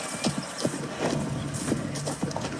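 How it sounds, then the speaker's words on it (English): Several horses' hooves clip-clop in an irregular patter of hollow knocks over steady background noise, with a faint whinny-like tone, and no one speaks. "All the horses."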